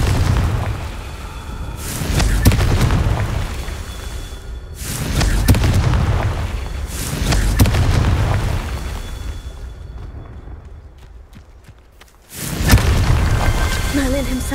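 Repeated booming fire-spell explosions in the game Hogwarts Legacy, four heavy bursts spaced a couple of seconds apart, each swelling and fading, with a quiet gap before the last blast.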